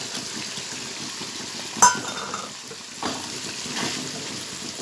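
Poppy seed paste and sour yogurt stir-frying in a pan, a close steady sizzle with one sharp utensil clank and a couple of louder stirring swells.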